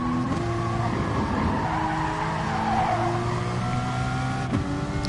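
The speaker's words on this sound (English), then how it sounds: "We're losing it under braking" A race car in a GT Sport racing game skids under braking, a sustained tire squeal over engine drone running through the whole stretch, with a brief gear-shift blip near the end.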